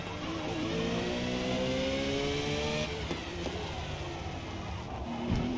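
A race car in Forza Motorsport accelerates hard under power, its engine note rising steadily in pitch before a brief dip as it shifts up a gear, a loud, continuous close-up drone with faint tire noise.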